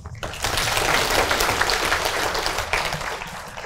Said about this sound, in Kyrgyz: Ушул суроого бир кол чабуулар.